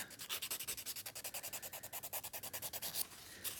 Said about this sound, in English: you're just filing down all of the bumps, all of the humps, and you're going to try to make that smooth